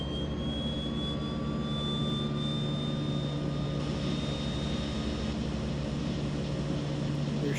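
The left turboprop engine of a DHC-6-300 spools up during a start in a flight simulator game. Loud, steady engine roar is layered with thin whining tones that slowly climb in pitch, with no talking.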